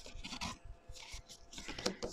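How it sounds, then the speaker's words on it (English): Soft, close rasping rubs as a paper score line on a folio is burnished, several quick strokes in a quiet room. "And we give it a burnish."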